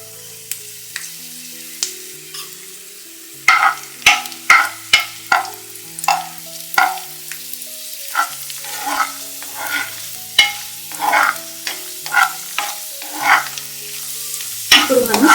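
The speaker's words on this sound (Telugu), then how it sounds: "ఇప్పుడు దీనిలో మనం కిస్మిస్ వేసి వేయించుకోవాలి" Raisins fry in ghee in a pan for rava kesari, sizzling steadily while a spoon stirs them in repeated sharp scrapes and clacks against the metal, close and fairly loud.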